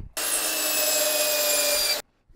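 Wood being sawn by hand: a single steady, loud rasping stroke lasting about two seconds, close by, with no talking.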